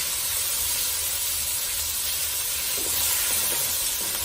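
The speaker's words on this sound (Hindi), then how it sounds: "इसको हल्की आंच से ही फ्राई करेंगे।" Chicken frying on low heat gives a dense, steady hiss that fills the whole moment without a break, loud and close and with no voices.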